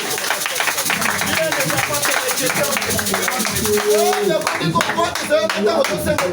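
A church congregation claps and cheers, a dense stretch of rapid applause mixed with shouts and voices, loud and sustained throughout.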